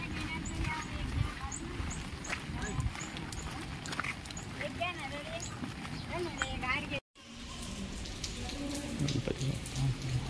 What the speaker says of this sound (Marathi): पाऊस पण चालू झाला आहे आज